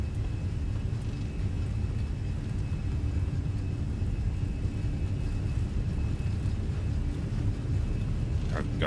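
An A320 airliner in Microsoft Flight Simulator rolls down a bumpy runway with a steady, loud engine roar and low rumble that stays constant throughout, with no talking over it.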